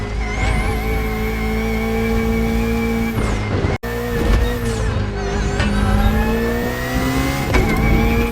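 A BMW engine in the racing game The Crew Motorfest revs hard through rising gears, dropping out for a moment before climbing again in a loud, close whine with no talking.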